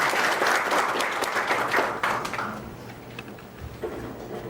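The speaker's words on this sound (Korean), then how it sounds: "박수로 맞아주시기 바랍니다." An audience at a Bank of Korea anniversary seminar applauds to welcome a speaker, loud dense clapping that fades away after about two seconds, leaving a quiet hall with a few faint thumps.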